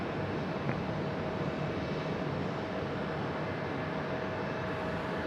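An Embraer E175 jet descends steeply toward runway 5 left at Raleigh-Durham airport, its engines giving a steady, loud broadband roar with a faint tonal whine running throughout.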